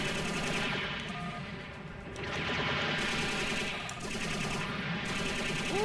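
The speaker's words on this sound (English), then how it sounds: "Kind of relying on the machine gun here." Sustained machine gun fire from a mecha in Robotech: Battlecry, a loud continuous rapid rattle running nearly unbroken, with a brief dip in intensity partway through.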